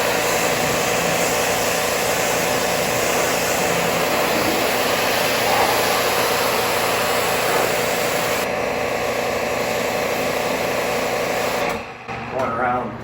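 A steady, loud hiss of water spray rinses a Ford Boss 302 after tar removal, running continuously for most of the stretch before cutting off briefly near the end.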